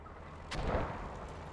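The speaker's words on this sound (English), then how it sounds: "Rusty 40 calling artillery on cap" Artillery fire in the World War II shooter Post Scriptum: a single distant, muffled boom with a soft rolling tail, fairly faint and alone.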